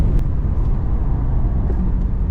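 Porsche Taycan Turbo S electric car driving on a racetrack, heard as a steady low rumble of road and tyre noise from inside, fairly loud and continuous with no engine note and no talk.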